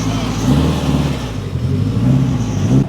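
A Mitsubishi Evo 8 under restoration, with a throttle body problem, fires up and revs close by, a loud rough engine drone that rises and falls in short pulses throughout, with a voice briefly heard over it.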